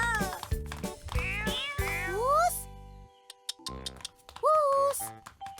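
A cartoon cat meowing repeatedly in an Indonesian animated episode, bright drawn-out meows mixed with lively voices and music, loud and close.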